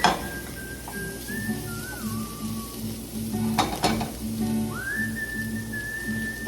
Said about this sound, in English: So we're going to get these veggies sauteed up.